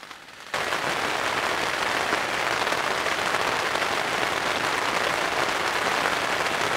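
Rain at night drums densely and evenly on a tent, starting abruptly after a quiet moment and then holding steady as a close, continuous patter.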